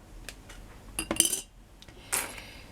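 Victorian glass mourning buttons clinking while handled: a few soft taps followed by two brighter, close glassy clinks spaced about a second apart in a quiet room.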